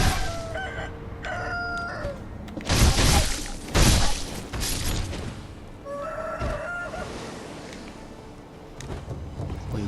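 A chicken clucks and crows in the video game Sekiro, several short bursts of fowl calls at a moderate distance over a busy, noisy game soundscape with crashing effects.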